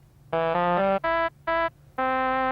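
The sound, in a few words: Mellotron trumpet sound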